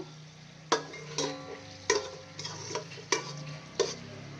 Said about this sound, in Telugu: ఇప్పుడు దీంట్లోకి జీడిపప్పులు వేసుకుందాము